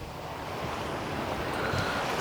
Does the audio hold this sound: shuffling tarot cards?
no